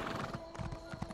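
Horse hooves clip-clopping with a whinny in the video game Elder Scrolls Online, a steady busy patter of hoofbeats filling the short moment, close and fairly loud.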